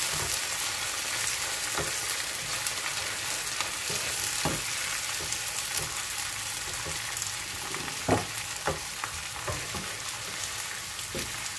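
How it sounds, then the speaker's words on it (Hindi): Steady sizzling and crackling of garlic frying in a hot pan, with occasional scraping stirs, continuous throughout. "अब इसमें डालूंगी मैं लहसुन इसको थोड़ा सा भूनेंगे"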